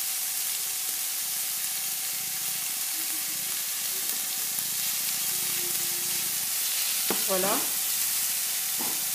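Onions, tomatoes and olives sizzle steadily in a pan, a constant soft frying hiss running throughout with a few brief clinks and scrapes of stirring toward the end; a voice speaks briefly.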